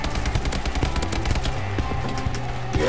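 Rapid automatic gunfire in a video game team deathmatch, dense repeated close shots in quick bursts filling the short stretch.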